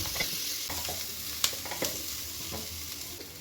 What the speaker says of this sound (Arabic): راح أضيفهم ويا البصل وأبقى أحمس فيهم إلى أن يتغير لون الشلغم ويدبل